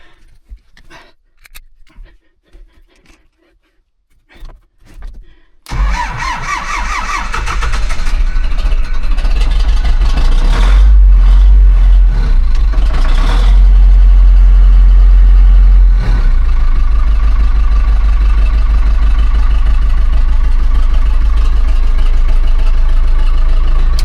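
An Ursus C-360 tractor, just rebuilt, cranks over after a few quiet clicks and knocks, then its diesel engine catches and settles into a loud, steady, rumbling idle with a brief rev midway.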